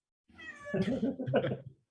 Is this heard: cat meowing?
yes